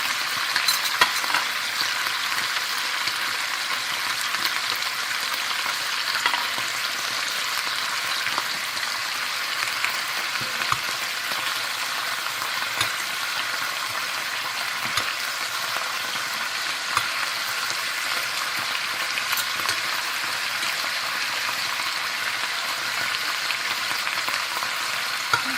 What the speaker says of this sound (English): So I have to turn them after a while and fry them from every side.